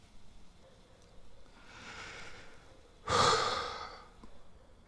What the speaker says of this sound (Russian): Сделай, пожалуйста, сейчас полный выдох.